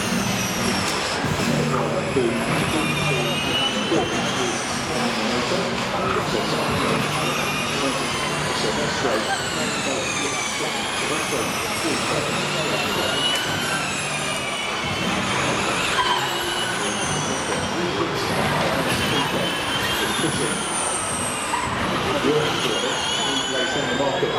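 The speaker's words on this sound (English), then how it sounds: "I love the sound of the cars now." Formula E electric race cars sweep past one after another, their high whining drivetrains rising and falling in pitch over a steady, noisy trackside background with faint voices in the crowd.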